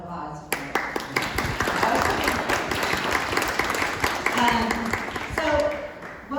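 An audience at a panel discussion on Bizarro fiction gives a round of applause, dense clapping filling several seconds while voices carry over it.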